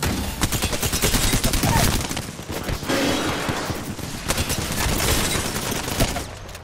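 Rapid bursts of automatic gunfire in an online shooter video game, dense and continuous for several seconds with overlapping shots at close range.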